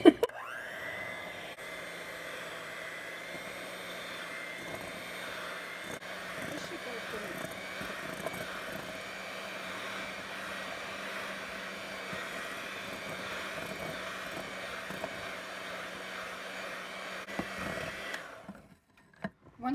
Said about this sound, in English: After you make sure that your mixer is put together, then you go ahead and cream it.